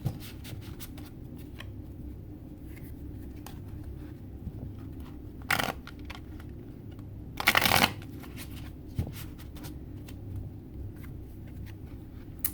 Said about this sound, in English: I'm going to pull 3 cards for each, and then I will pull some clarifiers if I need to.